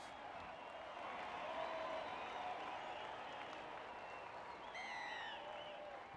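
Crowd applause and cheering in the video game Rugby League 26 at a Manly Sea Eagles versus Canberra Raiders match, a steady roar of clapping that swells and holds, with a commentator's voice faintly underneath.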